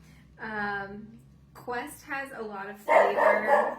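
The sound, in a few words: dog barking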